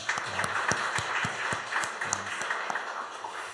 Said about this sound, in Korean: 우리 일려전도회를 위해서 격려의 박수 한번 합시다.